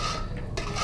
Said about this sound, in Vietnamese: bây giờ quậy lên cho nó đều ha